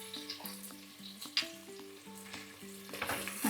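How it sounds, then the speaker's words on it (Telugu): Asafoetida, mint and turmeric frying in oil with eggplant for drumstick-leaf sambar, a quiet steady sizzle with occasional light stirring clinks, under a low tonal hum and no talk. "ఇంగువ నూనెలో వేగాలి"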